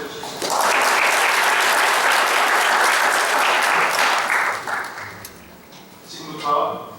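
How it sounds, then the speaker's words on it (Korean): Audience applause at a 2018 scholarship award ceremony, a dense crowd of clapping that starts abruptly, holds steady for several seconds, then tapers off as a voice speaks over the fading claps. "함께 박수 쳐주십시오."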